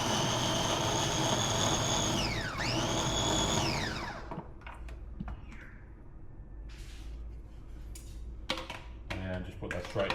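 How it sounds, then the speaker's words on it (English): An electric blender chops dough bait ingredients with a loud whirring run that briefly dips in pitch, then cuts off and leaves scattered clatter and knocks. "I blend it up, just makes it a little bit finer"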